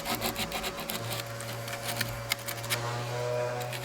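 Drilled holes in a sailboat's fitting are cleaned up by hand with an abrasive, giving a rapid scratchy rubbing in short strokes, close and moderately loud, over a low steady hum.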